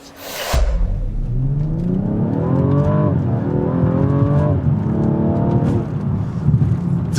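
A BMW M135i engine fires up and revs hard nearby, its loud growl climbing and dropping in pitch over several seconds.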